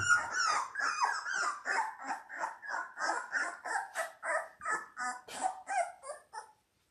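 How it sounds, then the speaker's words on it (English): Seventeen-day-old Labrador retriever puppies growl in a steady run of about a dozen short, pulsing, whiny grumbles, close and fairly quiet, with no talk over them. "Ah, listen to that growl."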